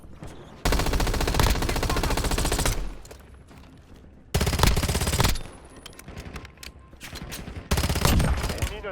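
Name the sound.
gunfire in Warzone video game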